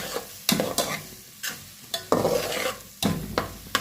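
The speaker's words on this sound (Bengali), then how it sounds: "এখন তেলের সাথে পেঁয়াজটা ভালো করে" Onion fries in a small amount of oil in a pot for beef bhuna, with repeated sharp stirring scrapes every half second or so over a soft continuous sizzle, close and without talking.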